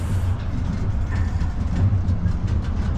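Freight train 22X pulling away from a red signal, a low rumbling rolling drone of rail cars and heavy engine, steady and moderately distant, no voices.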